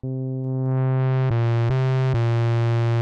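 A sustained low synth tone from a software synthesizer, filter cutoff turned down and distorted, has dense harmonics and grows brighter and grittier as it swells, punctuated by a few clicky pulses, steady and loud throughout.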